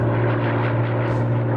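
Spanish Civil War–era propeller warplanes drone overhead in a steady, loud, continuous roar with a deep engine hum throughout.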